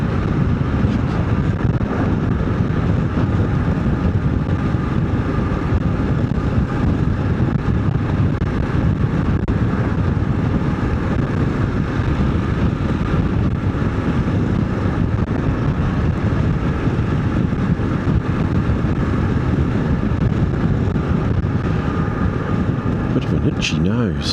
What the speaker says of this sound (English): the wind going through this blooming jacket is nice